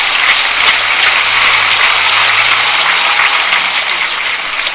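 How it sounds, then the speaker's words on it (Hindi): Applause from an audience welcoming people at a motivational talk: a loud, dense, continuous patter of many hands clapping, steady throughout with no voices. "आइए ताली में जोर से।"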